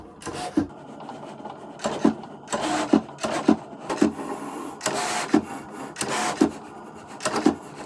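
A Cricut cut-and-draw machine moves a pen across material with repeated short mechanical whirring passes and clicks, close and fairly steady, with no voices.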